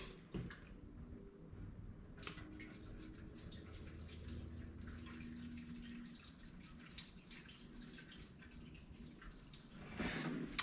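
Gasoline dripping from an old Harley-Davidson Panhead motorcycle, a faint, quiet patter of drips over a low steady background, with a louder splash near the end.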